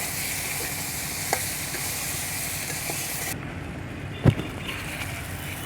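Cauliflower pieces fry in oil for soybean curry, a continuous close sizzle with an occasional stirring knock against the pan and no voice over it.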